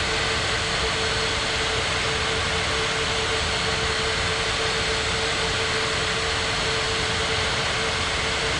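A jet airliner taxis at Las Palmas de Gran Canaria airport, its engines holding a loud, steady whine and roar with a constant tonal hum throughout.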